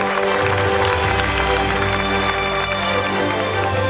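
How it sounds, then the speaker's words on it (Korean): Audience applause at a regional advanced-industry briefing, a dense steady wash of clapping from a large crowd filling the space throughout. "큰 박수 부탁드립니다."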